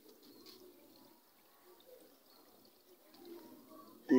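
An automatic washing machine drains water with a faint, trickling and gurgling flow that swells and fades, followed by a brief louder knock at the very end.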